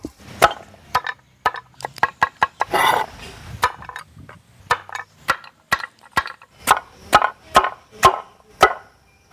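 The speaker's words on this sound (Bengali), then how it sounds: "চিকেনটাকে ভালো করে পিস পিস করে নেব" Chicken is chopped into pieces with a knife, as prep for a giant chicken egg roll. Close, sharp chopping strikes come in a quick irregular series, then settle into steadier, evenly spaced blows.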